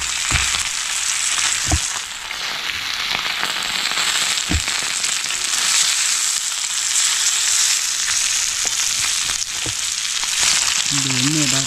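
Fish fries in a pan of hot oil outdoors beside a well, a loud steady crackling sizzle with sharp popping spatters throughout, close and continuous.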